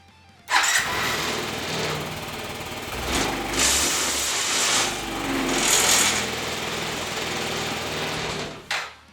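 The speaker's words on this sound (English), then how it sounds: "she starts up and runs great" A Yamaha C3 scooter engine cranks and catches after a short pause, then settles into a buzzy, high-pitched idle that swells with a couple of throttle blips before cutting off near the end.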